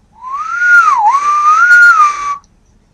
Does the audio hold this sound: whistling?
yes